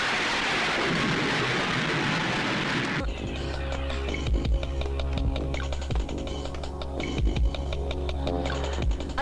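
Stormy night with heavy rain hissing loudly, then giving way to rumbling thunder and steady patter, with crackling bursts repeating through the storm.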